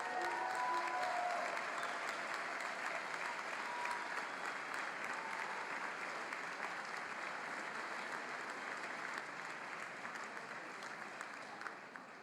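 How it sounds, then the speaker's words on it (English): Sustained applause from the audience at a medical school white coat ceremony, a steady dense patter of many hands that carries on for several seconds and slowly thins toward the end. "give them a hand of applause"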